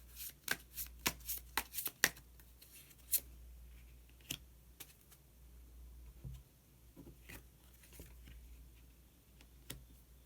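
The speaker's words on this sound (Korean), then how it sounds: "마지막으로 히든 카드 한 장 더 뽑아보도록 하겠습니다" Tarot cards are handled and drawn from a deck, giving a string of crisp, close papery snaps and flicks, dense at first and then sparser, over a quiet background.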